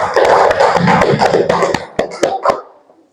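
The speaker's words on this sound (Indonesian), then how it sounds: "tepuk tangan untuk kelompok 1" Pupils in a classroom clap for a group of classmates: a burst of close, busy hand claps that thins into a few separate claps and trails off into quiet.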